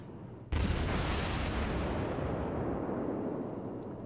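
Naval gun salvo in World of Warships: a sudden heavy boom followed by a long, loud rolling rumble and wash that fades slowly over several seconds.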